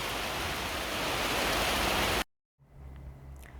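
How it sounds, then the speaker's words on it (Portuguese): Heavy rain pours on a farm in Palotina, Paraná, a loud, dense and steady hiss that cuts off abruptly, followed by a quieter, low background ambience. "Chuvona também lá em Palotina, no Paraná"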